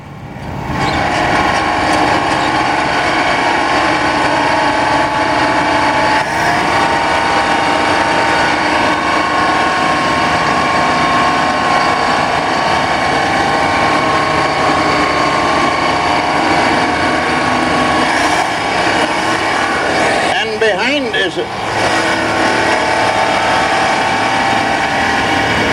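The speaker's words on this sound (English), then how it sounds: "a 1978 John Deere 425 hay cuber, owned by Reg Gurney and Henry Dieter, driven by Henry, and it's powered with a 671 Detroit engine" A 1978 John Deere 425 hay cuber powered by a Detroit Diesel 671 engine runs steadily and loudly up close, a constant mechanical clatter and drone with a brief rattling surge near the end.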